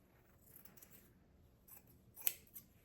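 Scissors snip through sewing thread in a quiet room, a couple of brief, faint cuts standing alone with no talking.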